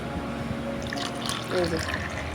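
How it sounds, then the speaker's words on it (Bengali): Chilled mango ice cream mixture is poured into moulds one after another, giving a soft, continuous liquid trickle and splash close up, with a brief fuller pour near the end. "একটা একটা করে সবগুলোর মধ্যেই আমি এই রকম করে ঢেলে দেব"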